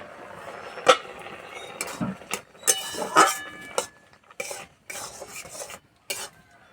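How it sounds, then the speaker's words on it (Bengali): A lid coming off a pot of dal brings a run of close metallic clinks and scrapes of utensils against the pot, sharp and uneven, with quiet gaps between them. "ঢাকাটা খুলে দেব"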